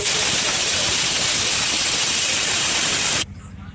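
Loud, steady sizzling and hissing of tempering spices, dried red chillies, curry leaves and garlic hitting hot oil for dal, continuous for about three seconds before dropping away abruptly.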